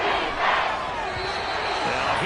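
A stadium crowd in an American football video game roars in a steady, dense wash that swells slightly and holds throughout, with faint thuds beneath.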